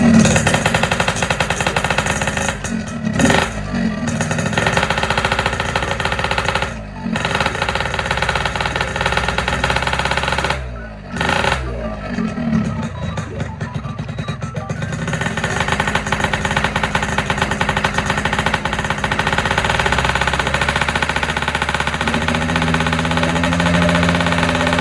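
A Yamaha RX King two-stroke motorcycle engine runs loud and close, revving with a rough buzzing rattle, dropping out briefly a few times before settling into a steady high-revving drone.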